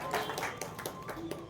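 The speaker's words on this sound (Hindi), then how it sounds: "वाहिद भाई के लिए जोरदार तालियां होनी चाहिए" Applause at a press club election rings out for the runner-up, a brief burst of clapping from a modest group, with voices talking over it.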